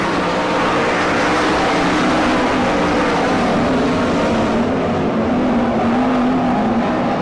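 Sprint race cars racing on a dirt track, a loud, unbroken wall of engine roar from the pack at steady intensity, without talk.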